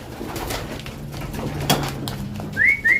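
Racing pigeons coo low and soft inside a loft, with a couple of short whistling calls near the end and faint background movement.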